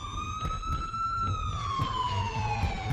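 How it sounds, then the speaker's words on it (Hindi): Police and ambulance sirens wail outside a house, a single rising-and-falling tone heard at a moderate distance over low traffic rumble. "हमारे घर के बाहर पुलिस और एम्बुलेंस की सायरन बजने लगे।"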